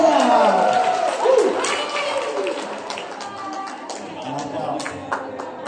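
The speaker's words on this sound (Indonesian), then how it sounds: "Tepuk tangan semuanya." Crowd claps and cheers as a group, the applause mixing with loud overlapping voices and chatter nearby, fading somewhat toward the end.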